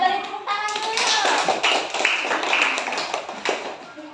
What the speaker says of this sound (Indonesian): Kita beri tepuk tangan dulu yuk